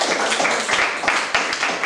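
A classroom of children claps again, a dense, even patter of many hands close by that keeps going without a pause.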